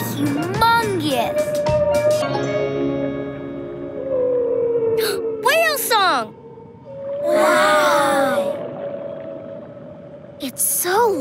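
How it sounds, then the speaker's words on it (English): A humpback whale sings in a children's cartoon, making long sweeping moans and rising and falling calls that are loud and close, mixed with bursts of music and character voices. "That's so the whale can be heard by other whales from far away."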